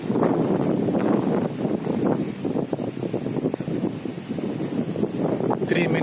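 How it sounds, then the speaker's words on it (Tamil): Strong wind buffets the microphone on an outdoor ride, a loud continuous rushing roar that fills the whole clip with gusty fluctuations. "நல்லா காற்றடிக்குது."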